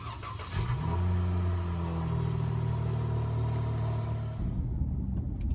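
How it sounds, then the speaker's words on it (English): A 2013 Chrysler 300S with all-wheel drive cold-starts, its engine catching and settling into a loud, steady exhaust rumble with a slight rise in revs before cutting off near the end. "I also want to do a cold start in the engine because the exhaust sound in this car sounds really nice"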